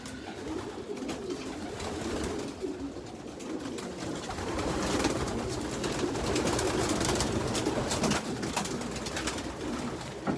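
A flock of young pigeons coos softly and continuously in a loft, with low, overlapping murmuring calls, wing flutters and a steady background hiss.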